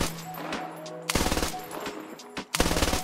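Automatic bursts from a G3 battle rifle fired off a bipod in the Squad military shooter, loud and close: a tone-like hum and scattered shots, then two rapid rattling volleys separated by a brief pause.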